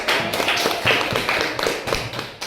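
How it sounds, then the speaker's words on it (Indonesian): A classroom of schoolchildren clapping hands for their teacher, a fairly loud burst of quick, uneven claps that swell and dip in waves before tapering off near the end. "Tepuk tangan untuk kita semua."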